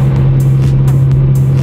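A Nissan Skyline R34 drifts at Daikoku in Tokyo, its engine droning loud and close in a sustained low roar, with intermittent rising whooshes and squeals layered over the steady tone.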